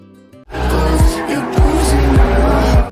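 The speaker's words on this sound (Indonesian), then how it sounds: "Noah pun diperbolehkan untuk mengendarai McLaren milik Nick." A McLaren sports car's engine roars up hard and close, its pitch dropping in repeated shifts while the tires squeal under acceleration.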